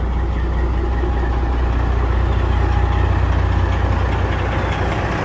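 A 2000 International Eagle 9200 truck with a Detroit 60 Series 12.7 engine and its cracked exhaust removed runs with a loud, raw, steady idle rumble, continuous and close throughout.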